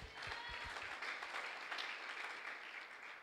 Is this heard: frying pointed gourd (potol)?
no